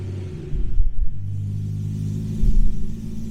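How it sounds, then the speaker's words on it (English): A BMW M3 engine, just fitted with new spark plugs, fires up and settles into a steady low idle rumble, with a louder swell right after starting and another brief rise near the end, close and alone. "So I'm going to start it up and we shall see."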